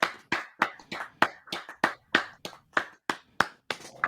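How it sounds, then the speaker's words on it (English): A single person clapping hands slowly and steadily, about a dozen sharp, evenly spaced claps, close and moderately loud, with no other sounds. "Stand up and applaud."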